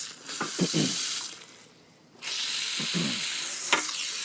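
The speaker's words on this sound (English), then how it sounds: "So I've got the garden hose hooked up." Water rushes from a garden hose hooked up to a Craftsman 2550 psi pressure washer. The loud, steady hiss drops away briefly in the middle, then resumes with a few splashy bursts.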